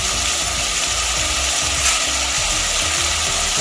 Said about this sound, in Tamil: மசாலா போட்டு மசாலாவை எண்ணெயிலே வதக்கிட்டு